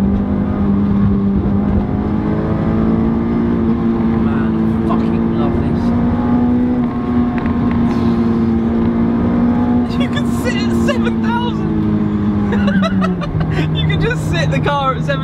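A car engine drones loudly at high revs from inside the cabin, its pitch holding and rising slightly before dropping near the end, with someone talking over it.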